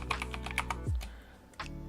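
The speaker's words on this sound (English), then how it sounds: "Typing his name." Quick, light keystrokes on a computer keyboard come in a close, even burst of clicks, then a brief pause and one more tap, with a low thump between.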